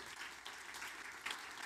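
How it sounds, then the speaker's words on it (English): Live-event audience at BMC Exchange in Chicago claps in a brief, fairly faint round of applause, a steady patter of hands. "Big round of applause"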